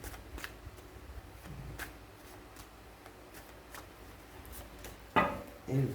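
Tarot cards shuffled and handled at a reading table, with faint soft riffles and taps, then a few louder, closer card slaps and flicks near the end.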